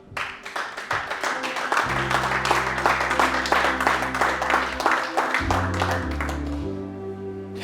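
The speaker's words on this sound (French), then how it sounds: "Acclame Dieu pour ta vie." A church congregation claps steadily and rhythmically in praise of God, with sustained keyboard chords playing underneath.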